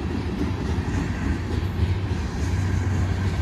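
A long northbound BNSF manifest freight train with a DPU rolls past nearby, its heavy steady rumble of wheels and cars continuous and loud throughout, no voices.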